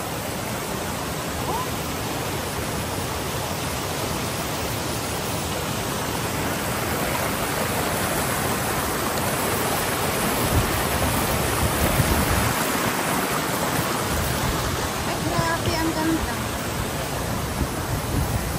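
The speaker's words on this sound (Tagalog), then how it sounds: "kahit saan ka magpunta, be, ang daming tubig." A constant, full roar of rushing water at Taikoo fills the scene, steady and close throughout, with a slight surge in the middle and faint voices under the noise.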